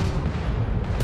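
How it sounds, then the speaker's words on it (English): Enemy gunfire in the space game Starfield, a dense continuous rumble of booming shots and blasts heard close and loud throughout, with no talking. "Wait, are they firing at me?"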